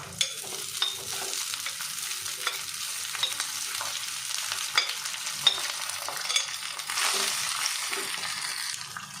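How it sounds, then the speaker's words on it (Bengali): Turmeric lemon rice with a pinch of asafoetida is stirred in a pan over a low gas flame, with a steady soft sizzle and repeated scraping strokes of a spoon, close by and without talk. "ভালো করে মিক্সিং করে নেব।"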